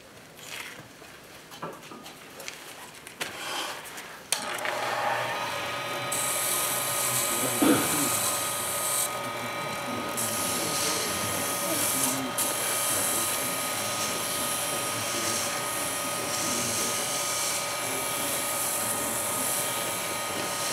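A woodturning lathe spins a banksia pod, a steady loud high whine with a rough tool-cutting edge that starts after a few seconds of quieter clatter and runs on continuously.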